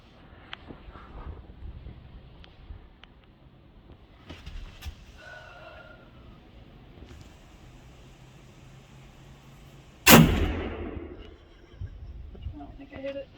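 A single loud, sharp rifle shot fired outdoors at a distant target cracks out near the end, its echo trailing away. Faint voices and low background rumble come before it.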